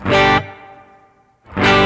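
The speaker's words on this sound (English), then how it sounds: "Next parameter is tone tilt, which it's an EQ that tilts the entire frequency spectrum of the reverb." Distorted guitar chords played through the reverb of an Elevate effects unit with the tone tilt EQ engaged: a loud strum, a long tail fading to near silence, then another loud strum.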